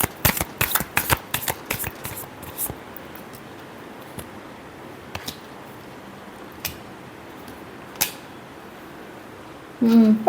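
Tarot cards riffle and snap close by in a fast flurry of crisp flicks, then the sound thins to a few scattered taps over a quiet room before a voice begins speaking.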